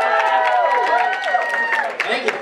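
A live audience at a college battle-of-the-bands show claps and cheers to welcome a band, with whoops and shouting voices riding over dense, close applause.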